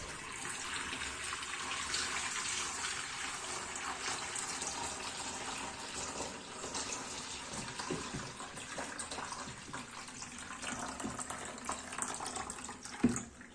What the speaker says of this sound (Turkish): Şimdi yavaşça suyumu dökmem lazım.